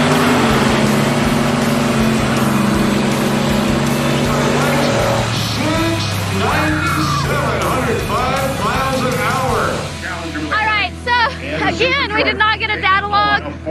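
A second-generation Chevrolet Camaro revs up with rising engine tones and then spins its tires hard at a drag strip, heard loud and close under a running commentary voice and crowd babble.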